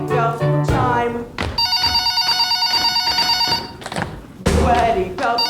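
A telephone bell rings on a theatre stage during a musical comedy performance, a steady loud electronic trill sustained for a few seconds between bursts of singing and stage voices.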